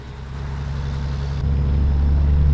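Truck engine in American Truck Simulator, a low steady drone that grows louder and deeper partway through, heard alone without talk.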